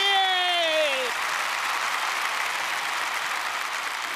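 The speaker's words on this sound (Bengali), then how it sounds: "রানু এবং ধ্রুবর জন্য এই বিরাটের পক্ষ থেকে একটা বিরাট জোরে হাততালি" A studio audience on a Bengali television show breaks into loud, sustained applause for Ranu and Dhruba, a continuous even roar of clapping that opens under a brief falling electronic tone.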